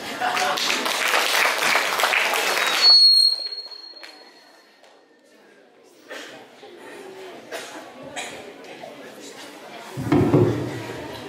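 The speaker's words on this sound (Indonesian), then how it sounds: "Sekali lagi kita berikan tepuk tangan yang meriah untuk Bapak Guru dan juga sekolah" Students and staff at a school welcome ceremony clap for the teachers in a short loud burst, followed by scattered knocks, clatter and indoor room noise, with a low rumble near the end.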